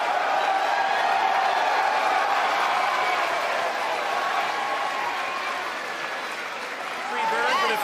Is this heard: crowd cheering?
yes